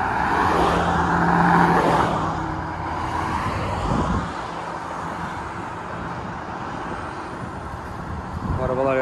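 Cars move along the road beside a Shell gas station, a steady nearby engine and traffic rumble that swells and eases, with people talking over it.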